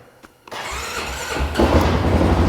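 A Polaris Sportsman XP 550 ATV engine starting: a brief starter whir, then the engine catches and settles into a steady, loud idle that steps up slightly near the end; no talk.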